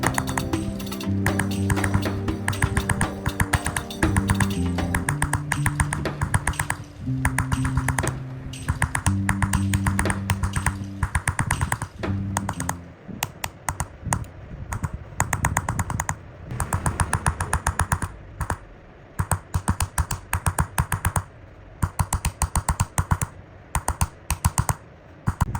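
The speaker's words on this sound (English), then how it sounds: "The tip of this chisel has very fine grooves, allowing us to engrave the inner shading of the design." A fine-grooved chisel taps rapidly against copper while engraving the inner shading of a design, producing dense, steady metallic clicks in quick rhythm, close and clear, with musical tones underneath during the first half.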